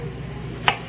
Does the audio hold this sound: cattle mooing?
no